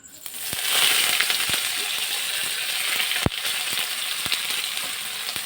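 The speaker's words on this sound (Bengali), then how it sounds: "তেলের মধ্যে আমরা পেঁয়াজ কুচিগুলোকে দিয়ে দেবো" Chopped onions hit hot oil already tempered with bay leaf and dried chilli, for a mrigal fish curry: a sudden steady sizzle swells and holds, with a few sharp clicks and pops of spatula or splatter.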